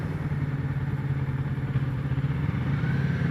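A 2015 Kawasaki Ninja 650 motorcycle engine runs with a steady, even mid-pitched drone and a slight rhythmic pulse, sustained and fairly close throughout.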